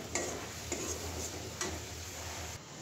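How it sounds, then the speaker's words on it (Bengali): Thankuni (pennywort) leaves fry in a pan under a steady close hiss, with a few sharp scrapes and taps of a spatula stirring at intervals; no talking. "এবার পাতাটা শুধু একটু ভাজি করে নেব"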